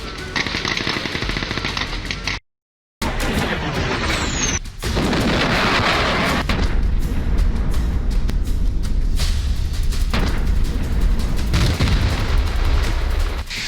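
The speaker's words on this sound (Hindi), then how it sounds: "ये सैनिक गोलियों की तड़तड़ाहट के साथ आगे बढ़ रहे हैं" Loud, dense automatic gunfire rattles almost without pause as Ukrainian soldiers advance along a road in the war with Russia, with heavy booming reports mixed into the bursts and one brief silent gap.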